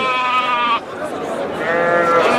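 Local sheep at a livestock market bleat in two long, loud, wavering calls close by, with market noise behind.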